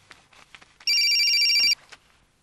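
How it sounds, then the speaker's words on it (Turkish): A mobile phone rings with one loud, steady electronic tone burst lasting under a second, close by, with faint talk and movement before and after it. "Aa, cep telefonum çalar be."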